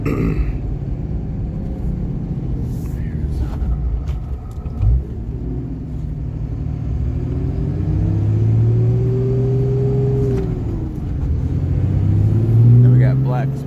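Engine of a 2006 Ram 2500 with the 5.9L diesel and six-speed manual pulls in third gear, a low rumbling drone that rises in pitch as the truck accelerates, heard from inside the cab with some brief talk.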